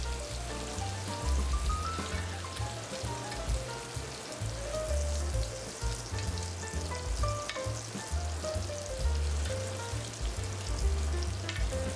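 Butter melts with sprigs of fresh rosemary in a hot pan before filet mignon goes in, giving a steady, close crackling sizzle that runs the whole time beneath rhythmic background music.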